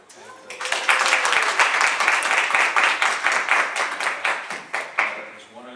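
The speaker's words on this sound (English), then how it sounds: "actually do an audible applause for you guys" Applause for council members at a general council meeting: a crowd claps steadily for about five seconds, dense overlapping claps at moderate loudness that fade slightly toward the end, with faint talk beneath.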